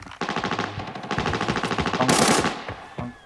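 Automatic gunfire in the video game Arena Breakout: a rapid, close burst of rhythmic shots lasting a few seconds, ending in a sharp blast.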